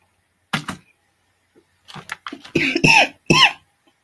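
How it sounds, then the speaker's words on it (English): Several sharp coughs, a pair first and then a longer burst of harsh coughing close to the mic, with quiet pauses between. "I apologize for the coughing."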